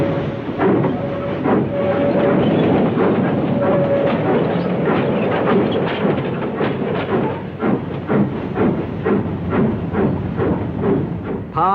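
The City of Truro steam locomotive running on excursion duty, with a steady rhythmic clatter of wheels over rail joints, chuffing and hiss rolling along close and loud.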